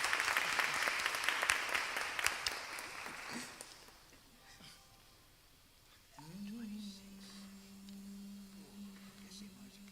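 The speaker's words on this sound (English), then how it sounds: "we can give them a round of applause for the work that they're doing" A ceremony crowd applauding drummers and musicians, with loud clapping for the first few seconds that tapers off, followed by a quieter stretch, faint voices and a sustained tone from an instrument or sound system.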